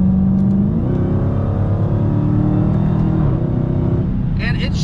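A Dodge Challenger Hellcat engine drones loudly from inside the cabin, its pitch stepping as the 8-speed automatic shifts through gears, with someone talking over it.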